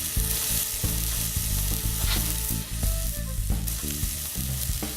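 Tartar burgers sizzle loudly and steadily on a hot grill stone in Vermont, with repeated soft thuds and scrapes as patties are placed and moved, no voices.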